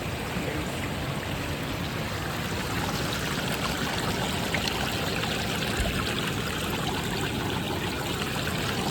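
Water rushing down a stream like a small waterfall on a Kalo Pahar hillside, a steady, dense, close roar of flowing water that holds unbroken throughout with no voices.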